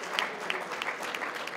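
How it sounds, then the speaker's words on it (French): An audience of over 300 people applauding at an evening event at the Manoir Richelieu: dense, steady clapping from many hands, fairly close and continuous, with no speech over it. "ça vaut la peine de s'applaudir"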